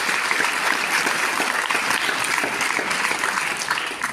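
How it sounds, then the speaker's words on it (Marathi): An audience claps loudly and steadily for Rutuja at the launch of her poetry collection, dense continuous applause filling the room for several seconds. "या मुलीसाठी आपण एकदा जोरदार ऋतुजासाठी टाळ्या"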